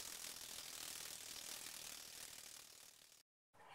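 A sewing machine stitches elastic onto a pajama pant in a rapid, steady mechanical run lasting about three seconds, fading out, then falling silent before restarting briefly.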